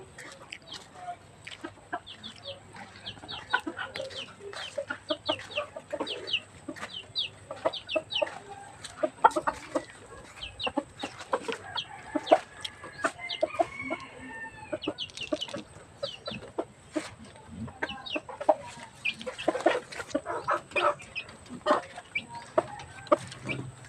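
Pet chickens in a coop at feeding time cluck close by in busy, overlapping bursts, with some faint background noise.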